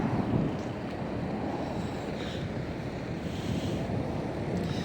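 Steady dry, cool wind roars across the microphone on the Ligurian coast of Italy, a constant rumbling gusty blast with a faint wash like surf in the background.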